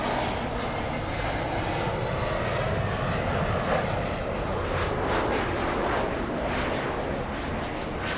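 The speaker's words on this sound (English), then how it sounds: "Delta Airlines 737 lining up, flying to Minneapolis" Delta Airlines Boeing 737 jet at LAX by runway 24 left, a steady, fairly loud engine roar with broadband rumble throughout, no voices.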